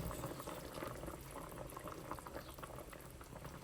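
Chicken tinola soup simmering in a pot, a steady close bubbling boil with continuous gurgling and popping throughout, no voices.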